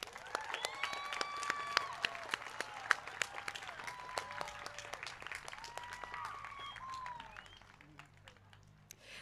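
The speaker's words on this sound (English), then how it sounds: "Let's please give them one more round of applause." An audience at a high school graduation ceremony applauds retiring staff. Scattered clapping runs throughout, along with high whistles and cheers over a murmuring crowd.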